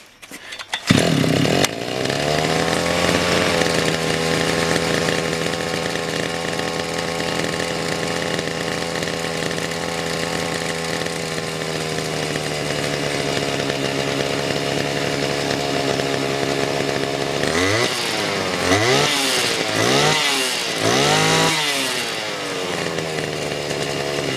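A petrol brush cutter with a priming fault is started, then its small two-stroke engine runs loud and steady for a long stretch before several sharp revving bursts near the end.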